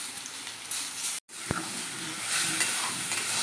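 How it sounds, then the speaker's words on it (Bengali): Potatoes fry in a pan with a steady nearby sizzling hiss, briefly cut by a short silent gap, followed by a single sharp tap. "তো আগে আলুটা ভেজে নিই, ভাজা ভাজা হয়ে আসবে যখন"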